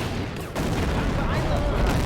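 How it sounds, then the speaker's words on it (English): Dense, continuous roar of battle explosions from fuel tanks blowing up in the WWII strategy game Blitzkrieg II, with a brief dip then sustained booming blasts and crackling debris, loud and layered. "There's fuel tanks exploding everywhere."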